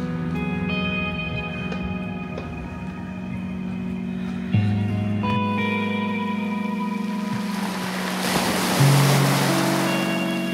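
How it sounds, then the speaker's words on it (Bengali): Sea waves wash in at Rock Beach, Pondicherry, on a morning, as a steady surf hiss swelling toward the end, partly under a sustained tonal background. "আর এদিকে সামনে সমুদ্র।"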